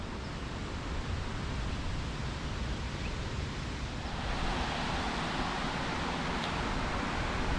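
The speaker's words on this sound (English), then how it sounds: "You can hear the Weir behind me there." Water pouring steadily over a weir on an outback road trip near Charters Towers, a continuous broadband rush with no breaks, loud and close throughout, growing slightly brighter partway through.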